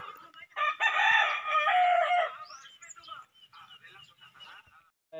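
A rooster crows loudly and close by in a rural provincial yard, one long drawn-out call, followed by softer clucking and scattered farmyard sounds.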